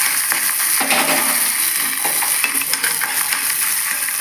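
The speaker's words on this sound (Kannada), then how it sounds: "ಒಗ್ಗರಣೆ ಕೊಡ್ತಾಯಿದ್ದೀನಿ." Mustard seeds, onion and curry leaves sizzle and crackle in hot oil in a pan while tempering food for a young child, a loud continuous frying hiss with scattered pops and occasional stirring clatter.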